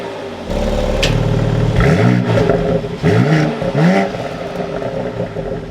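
A 2024 BMW X3M Competition's engine cranks and fires, catching with a loud rising rev flare that settles into a steady, rumbling idle, with a couple more blips close by.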